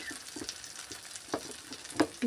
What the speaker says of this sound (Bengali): কত সুন্দর মশলাটা কষানো হয়েছে দেখো বন্ধুরা